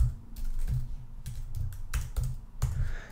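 Fingers type on a computer keyboard in quick, uneven bursts of clicky keystrokes, close and fairly loud, with short pauses between the runs of keys and no talking.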